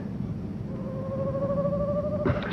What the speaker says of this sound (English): Only the owl.